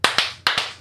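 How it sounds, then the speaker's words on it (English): Two people clap twice together in two slightly staggered pairs of sharp, loud hand claps, heard close and alone. "Our claps are so off right now."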